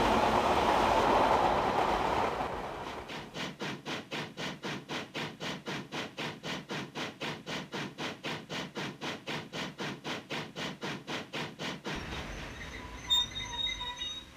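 A train rushes past in a steady, even clickety-clack of wheels over rail joints for about nine seconds after a brief rumbling approach, then cuts off abruptly to quiet background.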